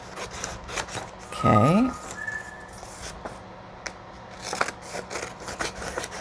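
Scissors cutting paper for a junk journal pocket: a series of close, crisp snips and rustles spread through the stretch, with a person speaking briefly.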